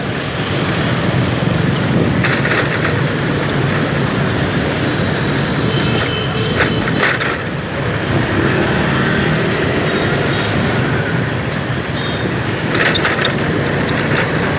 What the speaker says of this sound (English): You can hear my bike rattling, I know.